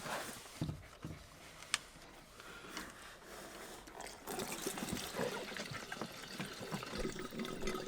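Water pours from a jerry can into a 75-litre boat tank, a quiet, close, continuous gurgling trickle that grows slightly fuller toward the end.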